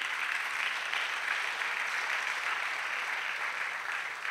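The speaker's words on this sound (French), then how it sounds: "Acclamation." Steady crowd applause fills the whole stretch, a dense wash of clapping at even loudness with no pauses and no talking.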